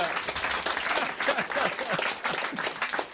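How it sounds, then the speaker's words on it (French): A studio audience on a French radio comedy show claps steadily, a close burst of applause running throughout with a voice speaking over it. "on applaudit et on remercie quand même Thioro et Ludovic"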